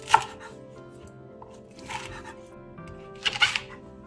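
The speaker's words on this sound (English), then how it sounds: "Cut the onion in half and cut the leek into big pieces" A knife cuts through an onion and leek on a cutting board for Korean chicken soup, making three separate close chopping strokes spaced about a second and a half apart, the last one loudest, over a steady low background hum.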